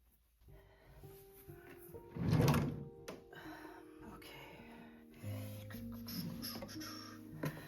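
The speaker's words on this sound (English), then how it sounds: "I'm going to put those in the other drawer." A drawer in a home closet or office slides open and shuts with a wooden thunk and some scraping, a few close knocks amid quiet room sounds.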